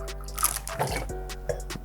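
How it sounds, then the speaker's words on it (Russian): Water is poured into a drinking glass for a kitchen hack, giving a brief run of close splashy drips and trickles over a low background hum. "Сразу же заливаем воды"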